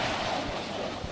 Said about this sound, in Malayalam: കണ്ടില്ലേ, ഭയങ്കര തിരയാ.